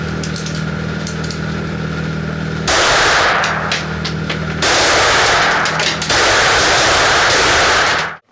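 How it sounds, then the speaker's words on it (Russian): Timed target shooting during a prison convoy service firing drill rings out as three loud, sustained blocks of rapid gunfire, separated by short pauses, with a low droning background before the first burst. "За 10 секунд нужно поразить цель 3 выстрелами"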